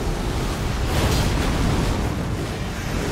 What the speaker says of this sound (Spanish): Explosión.